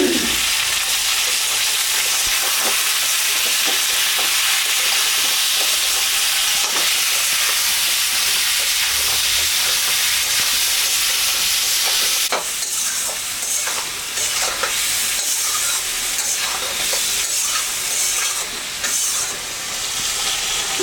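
Ridge gourd stirred and frying in a hot pan, giving a steady loud sizzle and hiss throughout, with soft scraping from stirring and a slight shift in texture partway through.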